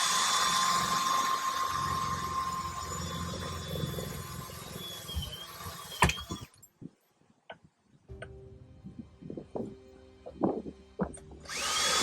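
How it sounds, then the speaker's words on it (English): Power drill boring holes through an older car's body for ISOFIX child seat fittings, a steady whining drone for several seconds, then short bursts of drilling with pauses and clunks, close by. "let's drill our holes."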